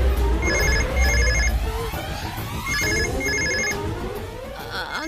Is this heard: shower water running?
no